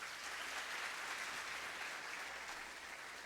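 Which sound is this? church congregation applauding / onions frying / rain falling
church congregation applauding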